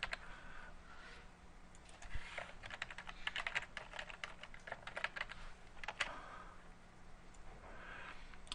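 Typing on a computer keyboard, irregular bursts of crisp key clicks with short pauses between runs, close and quiet, no voices.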